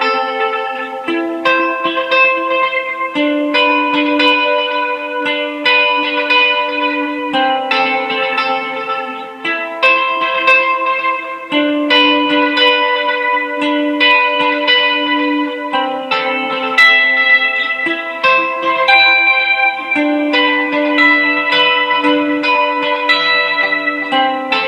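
Electric lead guitar run through effects such as chorus, reverb, echo and light distortion, playing the second-verse melody of a song: a continuous, bright, sustained melodic line at steady volume for the whole stretch, with no talking.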